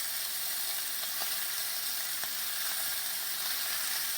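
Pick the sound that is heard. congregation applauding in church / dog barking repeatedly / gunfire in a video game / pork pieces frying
pork pieces frying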